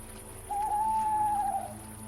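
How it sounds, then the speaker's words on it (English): One long, smooth hoot from an owl in a forest at night, fairly faint and distant over a soft steady background hum. "Somewhere in the distance, an owl hooted, its call echoing through the stillness"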